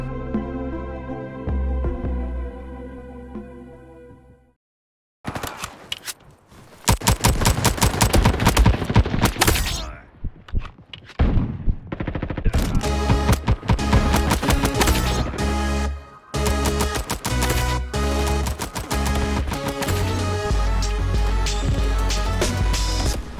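Automatic gunfire in a Roblox shooter, loud rapid bursts of shots and sustained machine-gun fire broken by short pauses, over a low music-like drone, with no talking.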